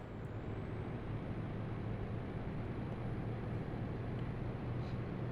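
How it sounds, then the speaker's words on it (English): Euro Truck Simulator 2 truck overtaking a tanker on the road, a steady low engine drone and road rumble holding evenly throughout, with no voices. "we're gonna go for an overtake with this tanker"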